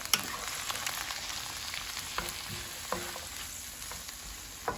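Chile, tomato and onion fry in a hot pan, a soft continuous sizzle broken by occasional scrapes and taps of a spoon stirring, fairly quiet and with no talking.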